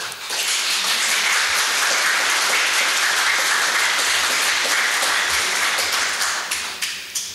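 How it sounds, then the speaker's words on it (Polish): Loud, thunderous applause fills the hall at a book promotion event, a dense and sustained wall of clapping that holds steady and then thins into a few last scattered claps. "których chciałbym powitać gromkimi oklaskami"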